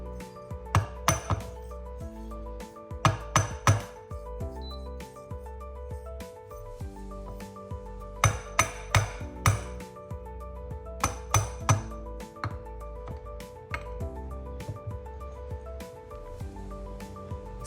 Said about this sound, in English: Just going to needle and smooth out the top of those grinds before I tamp with the Flair tamp.